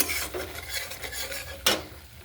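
Mustard paste masala made with white and black mustard is sautéed and stirred in a pan, giving a close, steady scraping sizzle with one sharper clack of the spoon near the end.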